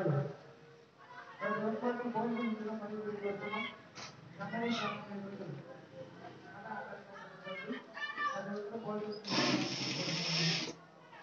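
A sewing machine stitches dori piping onto a blouse in a short steady burst near the end, loud and close after a stretch of talking.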